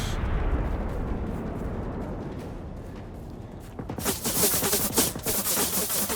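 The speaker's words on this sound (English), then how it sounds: "Someone's firing mortars." Mortar fire in the video game Generation Zero: a low, rolling rumble of distant blasts, then a sharper cluster of loud explosive bursts near the end.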